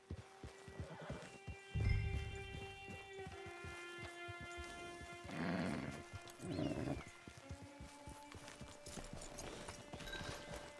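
A horse in the video game Red Dead Online clip-clops at a walk with steady hoofbeats and lets out whinnies and snorts, close and clear over a quiet outdoor ambience.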